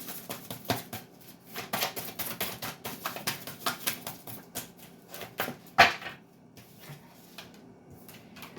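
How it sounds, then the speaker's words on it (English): Cards are shuffled in quick rapid riffles, soft fluttering bursts repeating close by, with a sharper snap of the deck near the end. "2 more shuffles and I'll pull from the top."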